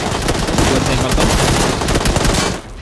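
Loud, rapid bursts of automatic gunfire in the PUBG Lite shooter game, dense overlapping shots blasting almost continuously before cutting off near the end.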